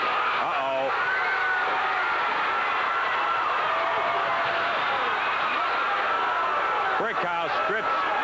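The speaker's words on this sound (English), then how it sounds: "Very unhappy crowd, and with reason" Unhappy crowd at a 1987 Memphis championship wrestling event, a dense roar of jeers and shouting throughout, with a commentator talking over it and sharper cries near the end.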